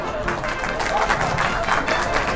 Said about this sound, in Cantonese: 亦都係請掌聲歡迎羅琳